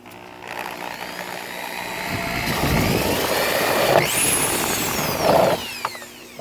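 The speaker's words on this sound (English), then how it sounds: "So we're going to drill the hole" A power drill whines steadily while boring a pipe hole for a fish pond filter, its pitch shifting as it bites, loud and close with no talk.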